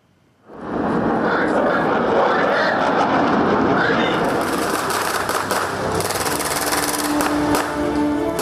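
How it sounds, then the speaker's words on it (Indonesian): Military fighter jets roar overhead during a rehearsal for an armed forces anniversary ceremony at the National Monument in Jakarta, a loud sustained engine rush that swells in and holds steady for several seconds. "Atraksi pesawat tempur membuka rangkaian gladi bersih dan disusul upacara pembukaan."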